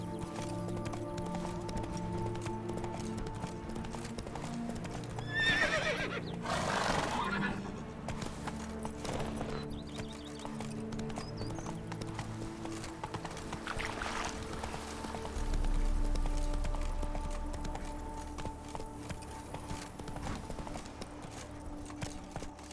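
Roach, a horse in The Witcher 3 video game, clip-clops at a gallop with a brief whinny. The hoofbeats sound steady and fairly close under ambient game sound and music.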